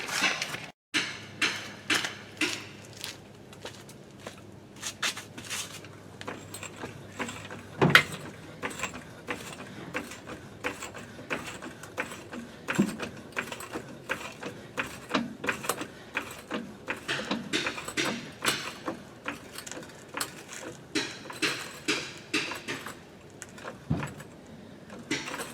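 Mechanical jack being pumped to raise the rear axle of a Chevrolet Silverado / GMC Sierra C1500 pickup, a rapid run of close ratcheting clicks and metallic clanks repeating steadily, with no speech.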